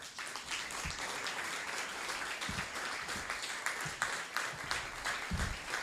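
An audience applauds to welcome a speaker onto a stage, a steady, moderately distant wash of clapping with a few louder thumps scattered through it.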